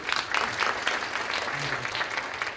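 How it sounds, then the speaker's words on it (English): An audience at a Silicon Valley angel investors panel breaks into a round of applause, a sustained wash of many hands clapping at an even level, with a faint voice murmuring briefly beneath it. "a round of applause"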